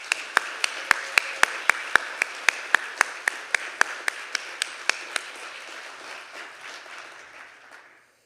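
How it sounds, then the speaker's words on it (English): Applause at a Dartmouth climate celebration evening, with a run of sharp, evenly spaced claps standing out over a softer bed of crowd clapping that thins and fades away over several seconds. "So maybe just a huge round of applause for everyone in this room who's worked to make this moment happen"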